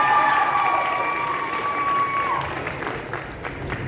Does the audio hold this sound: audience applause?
yes